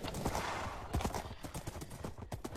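Horse hooves clop quickly in the Minecraft video game, a faint, rapid run of hoofbeats that continues steadily over a soft background hiss.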